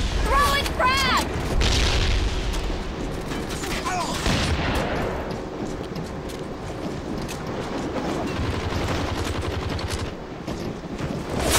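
Frag grenade explosions and gunfire in the ZMR online deathmatch shooter, with heavy booms and rapid bursts of shots in a dense, busy game mix, plus game voice callouts at the start.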